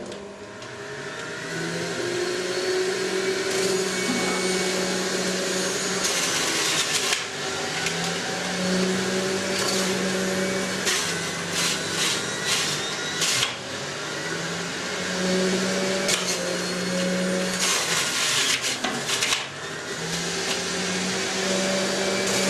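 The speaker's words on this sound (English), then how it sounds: "So now we're going to juice some carrots again, remaining with the 1 kilo on both sides." Magimix Le Duo XL and Catler juicers run at top speed while grinding through a kilo of carrots each: a steady, loud motor whine with grinding, rattling texture that sits close and continuous throughout.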